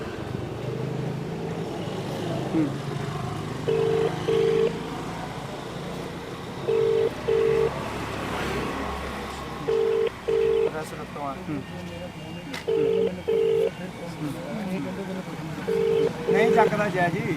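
A phone call to a government office number rings out unanswered, with a repeating double ring tone every three seconds over a steady background hum.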